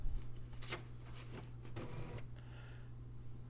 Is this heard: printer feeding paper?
yes